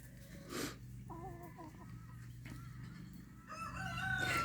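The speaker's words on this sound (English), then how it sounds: "Chicken Hawk is actually a blue Australorp crossed with a Leghorn." Chickens cluck and a rooster, a blue Australorp crossed with a Leghorn, crows in a backyard flock of rescued birds; the crow is fairly faint and mid-distance, with hoarse calls and clucks scattered around it.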